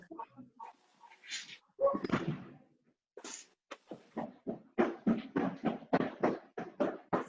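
A dog whimpers and whines in short, soft bursts that quicken into a rapid series of yelps, close by in a quiet indoor room, with a door or cupboard knock early on.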